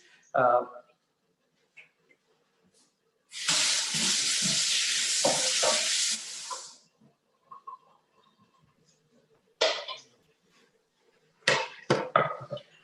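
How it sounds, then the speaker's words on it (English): Vegan tandoori momos steaming in a cooking demonstration, a steady loud hiss of steam lasting about three seconds, with brief clatters and scattered speech before and after. "So whilst it's steaming, it's a good 10 to 12 minutes of steaming process."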